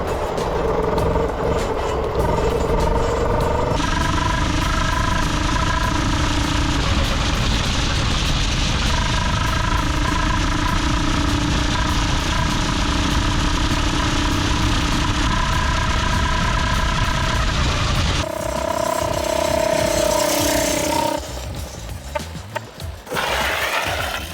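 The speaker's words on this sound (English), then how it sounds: "It backfired out of the trumpet." Custom-built go kart engine running loud and steady through a trumpet-shaped exhaust, its buzzing tone holding level before a sharp change near the end where a backfire cracks out, close and dominant throughout.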